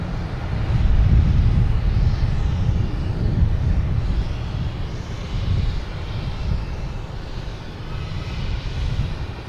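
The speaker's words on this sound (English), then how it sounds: "Next up a JetBlue heading to Fort Lauderdale." JetBlue passenger jet at Boston Logan Airport, its engines a loud, steady low roar that swells early and holds for the whole stretch, with no voices over it.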